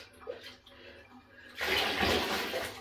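Water streams and splashes loudly in a bathtub as a muddy dog is rinsed, starting abruptly after a quieter stretch of low movement and a voice, then running steadily to the end.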